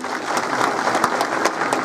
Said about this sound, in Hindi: मैं एक बार मोदी जी के लिए जोरदार तालियां चाहूंगी